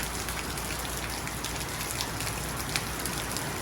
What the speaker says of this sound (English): When they're not at work, they're enjoying the rain.